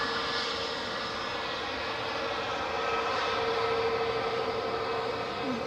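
An aircraft departs Edinburgh airport bound for London Heathrow, its jet engines a loud, steady roar with a rising whine, sustained throughout at moderate distance.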